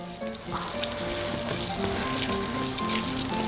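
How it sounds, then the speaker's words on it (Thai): Butter melts and sizzles in a pan over very low heat, ahead of eggs being cooked for a Thai-style creamy scrambled egg and shrimp curry-paste rice breakfast; the frying crackle is steady and close with no talking. "โอเคให้เนยเขาละลายนะครับ"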